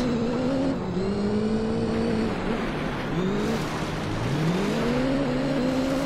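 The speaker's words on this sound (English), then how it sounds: "wheel spin is still coming out of this car" A rally race car in Gran Turismo 3 on the Tahiti Maze dirt track revs hard with wheel spin, its engine pitch rising and falling repeatedly through gear changes and throttle bursts, loud and continuous with a faint squeal of tires.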